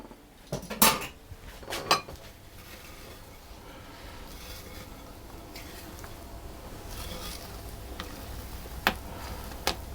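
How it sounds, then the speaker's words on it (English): A spatula scraping down the side of a mixing bowl of gluten-free lemon rice cake batter, with a few sharp clinks and taps against the bowl at the start and end around quieter, steady scraping. "I'm going to scrape down the side of the bowl to incorporate that dry flour."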